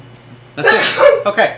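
During a tabletop game session, someone lets out a single sharp sneeze, followed right away by short spoken words from a player.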